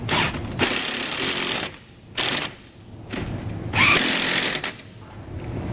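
Power tool, likely an impact wrench, snugging down nuts on a MORryde tandem axle trailer rubber equalizer, firing in three loud bursts of buzzing and hammering with short quieter gaps between them.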